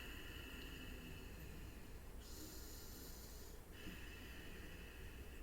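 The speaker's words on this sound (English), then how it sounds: "we can do the Ujjayi breath with our mouths, lips closed" Slow, steady Ujjayi breathing through the nose with a constricted throat produces a hissing, oceanic rush, a long inhale followed by a sustained exhale, close and alone.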